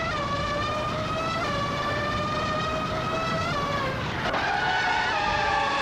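A Stewart SF02 race car in a racing video game holds a steady, high-pitched engine whine throughout, shifting pitch briefly near the end with a skid-like squeal.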